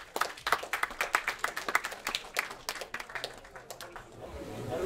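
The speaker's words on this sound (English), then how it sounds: "let's hear a round of applause for Yossi." An audience at the opening of a Yiddish film weekend claps in a brisk, crisp burst of many hands. It sounds fairly close and moderate in volume, then thins out toward the end as a low murmur rises.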